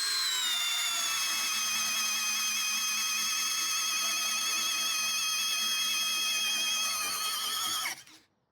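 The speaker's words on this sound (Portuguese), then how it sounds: "Vou tentar perfurar com uma mão só" Cordless drill with a 28 mm self-cut bit boring into wood, a loud, steady high-pitched whine held for about eight seconds before cutting off abruptly.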